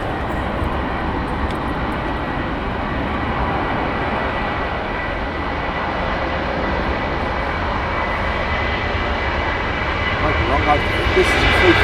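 An Airbus A330 airliner at Heathrow Airport gives a steady, loud jet roar that holds broadly even throughout and swells slightly toward the end.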